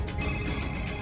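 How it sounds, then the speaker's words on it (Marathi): A brief burst of a phone ringtone, steady and moderately loud, with no one talking. "फोन कोणाचं वाजतोय?"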